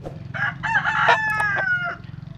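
A pure Asil rooster, a bearded gamecock kept on a farm, crows once up close. The call is loud and harsh, rising and then holding a strained note for about two seconds, with no talking.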